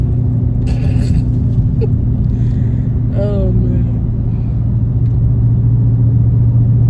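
A Dodge Charger Scat Pack drives along with a loud, steady low rumble and road noise throughout, while a voice briefly speaks over it from inside the car.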